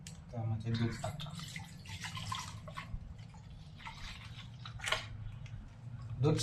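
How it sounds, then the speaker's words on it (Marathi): Milk pours into a cooking pot in a home kitchen while tea is being made, a steady close liquid splash with drips under a low background hum. "त्यामध्ये दूध टाका."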